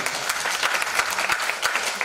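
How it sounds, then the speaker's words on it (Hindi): Lively audience applause at a motivational talk, a thick, continuous clatter of many hands clapping with slight pulsing surges, close and fairly loud. "जोरदार तालियां"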